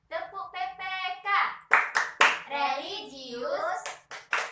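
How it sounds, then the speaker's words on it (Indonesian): A classroom group claps together in short rhythmic bursts during a clapping chant, mixed with a woman's and children's chanting voices close by. "Ya, tepuk tangan kita semua."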